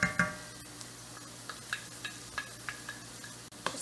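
Green onion and garlic sizzle in hot coconut oil, a soft frying hiss with a few spoon stirs and light clinks against the pan, close and fairly quiet.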